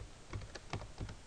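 Computer keyboard keys are pressed in a few quiet, irregular taps close by, with no voices over them.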